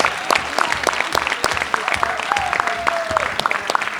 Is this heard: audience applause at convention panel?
yes